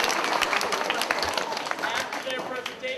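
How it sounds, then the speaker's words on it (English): A school assembly audience applauds with dense, steady clapping that fills the room for the whole stretch, with voices mixed into the crowd. "Let's give them a round of applause."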